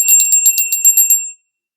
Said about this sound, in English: We'll ring the bell here to call in spirits.